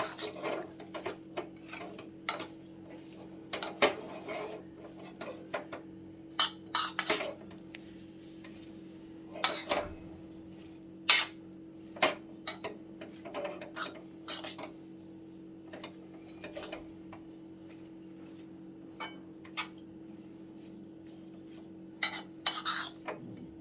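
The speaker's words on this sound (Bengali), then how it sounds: "এটাকে একটু আবার নাড়িয়ে দিচ্ছি" Kachki fish curry stirred in a pot, scattered clinks and scrapes of a spoon against the metal rim at uneven intervals over a low steady hum, fairly quiet with no voices.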